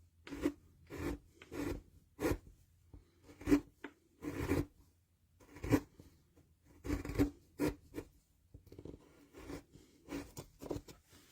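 A chisel cuts a wood relief carving in short, separate scraping strokes, each a brief rasping push followed by a pause, close and fairly quiet with no talk.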